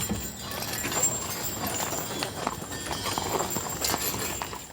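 A 20 mule team pulling a historic wagon, with steady overlapping clip-clop of many hooves on hard ground, moderately close, under a constant outdoor rumble.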